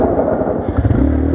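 A 200cc quad bike's engine revs up briefly, a loud, close, rough drone throughout the short moment.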